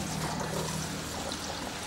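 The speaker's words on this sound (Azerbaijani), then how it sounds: "tavaya yağ tökürəm" Cooking oil poured into a frying pan on a home stove, a soft continuous trickling pour lasting about two seconds, fairly quiet with no talk.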